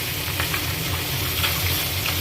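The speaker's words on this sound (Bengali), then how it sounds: "বেগুনটা ভাজা হচ্ছে।" Eggplant slices fry in a pan of hot oil for a neem-begun dish, giving a steady close sizzle with small crackles and no voices.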